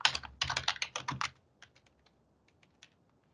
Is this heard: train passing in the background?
no